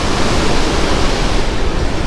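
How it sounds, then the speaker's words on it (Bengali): Roaring river water below the New Farakka Barrage, heard from a crossing train as a loud, steady broadband rush with no pauses. "আর নিচের জলে কত গর্জন,"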